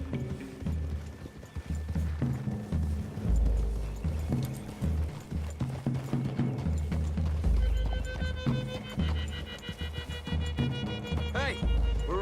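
Horse hooves clip-clop in a forest clearing in Red Dead Redemption 2, steady hoofbeats running under game music and other in-game sounds.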